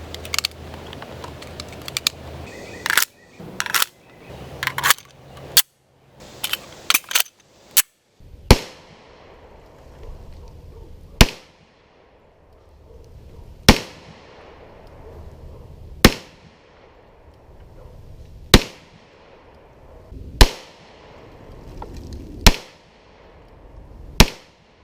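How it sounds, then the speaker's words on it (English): Smith & Wesson Model 4006 TSW CHP pistol firing Federal Hydra-Shok 135 grain rounds, a rapid burst of sharp shots followed by evenly spaced single shots about every two and a half seconds, loud and close with no voices. "We're also going to be shooting some Federal Hydroshock,"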